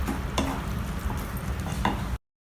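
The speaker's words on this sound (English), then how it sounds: "Again, give everything a good mix." A spoon stirs cooked dal and tur dal together in a pan, scraping and sizzling steadily at close range, with a couple of light clinks, then cuts off abruptly; no talking.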